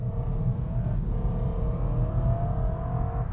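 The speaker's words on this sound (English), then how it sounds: "this has the big snarling V8" A BMW E90 M3's V8 engine revs hard and steadily, its low growl building in pitch with a raspy, droning tone, close and loud with no talking.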